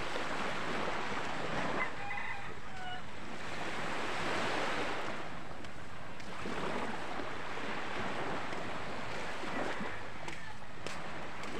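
Ocean waves roll onto a beach shore in a continuous rushing surf, swelling and receding in broad surges with wind buffeting the microphone; faint brief tones appear early on.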